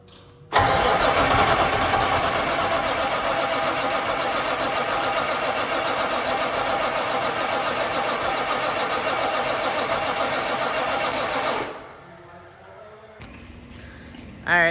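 A truck engine turns over and catches in one loud start, then runs at a steady idle for about eleven seconds and cuts off.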